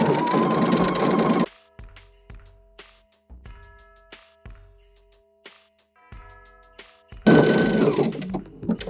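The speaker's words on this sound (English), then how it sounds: "I'm gonna use the overcast stitch again and just sew up the bottom square of this bag here" A sewing machine runs overcast stitches along the sides of an upcycled fabric gift bag, with loud whirring bursts at the start and end and quieter intermittent clicking and short stitch runs in between.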